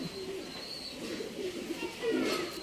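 A female Giribaz pigeon coos in low, soft, rolling calls, close by against a steady background hum, swelling slightly louder toward the end; no speech.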